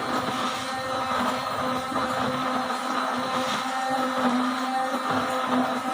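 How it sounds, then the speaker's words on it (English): A blender running steadily as it mixes thick white phenyl ingredients, including sulfonated castor oil, a loud continuous motor whir with a droning hum that holds for the whole stretch without pause. "Again we will mix it. Blending is needed in every step."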